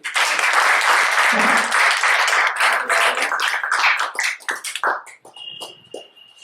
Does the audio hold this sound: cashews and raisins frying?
no